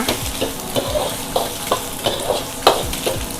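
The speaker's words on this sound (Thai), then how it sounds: "มีแครอท แล้วก็ มีหอมหัวใหญ่นะคะ พี่น้อง เราใส่ลงไปค่ะ เห็นไหมคะ ผัดเลยค่ะ" Carrot and onion sizzle in a hot pan while being stir-fried for Thai shrimp fried rice, with steady frying hiss and repeated scraping strokes of a spatula close by.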